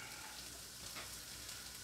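Cabbage and carrots stir-fry in oil in a pan for chicken chow mein, giving a brief, even, hissing sizzle that is close but fairly soft.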